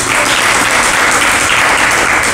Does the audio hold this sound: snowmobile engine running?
no